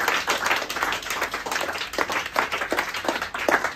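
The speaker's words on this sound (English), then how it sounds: "Give him a big round of applause." A small group clapping together, uneven and fairly close, lasting a few seconds with no voices.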